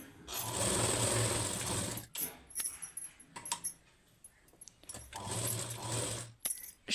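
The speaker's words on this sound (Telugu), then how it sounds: "లైనింగ్ని తిప్పుకొని లైనింగ్ చుట్టూ స్టిచ్చింగ్ చేసుకోవాలి" A sewing machine stitches around the lining of a blouse in two loud, steady whirring runs, separated by clicks and small mechanical handling sounds, heard up close.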